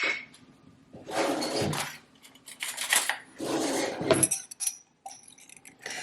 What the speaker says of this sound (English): I'm going to add in some capers.